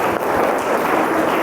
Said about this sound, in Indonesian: Mari tepuk tangan kita kawan-kawan